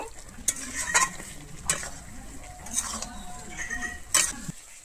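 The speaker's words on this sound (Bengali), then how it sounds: "আমি গরম মশলাটা আর ধনেপাতাটা কিন্তু খুব ভালোভাবে এখানে মিশিয়ে নিয়েছি।" A spoon stirs garam masala and coriander leaves into a Bengali-style cauliflower roast in a pan. Several distinct scraping strokes sound over a soft, steady sizzle, close and moderately quiet, with no talking.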